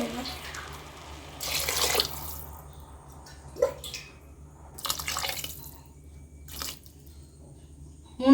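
Water poured into a cooking pot of soaked chana dal for Chennai-style vada curry in a home kitchen, coming in a few separate splashing bursts and drips with quiet gaps between them.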